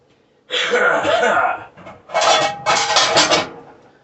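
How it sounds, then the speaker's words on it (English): A cooking pan is handled and set down, giving several clattering bursts of metal on metal, close and fairly loud, spread over a few seconds with short pauses between. "we're going to get our pan right here, front and center"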